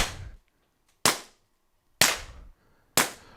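A gas-powered TR50 pistol fires custom ammo in four sharp, loud cracks spaced about a second apart, each with a short decaying tail and near silence between shots.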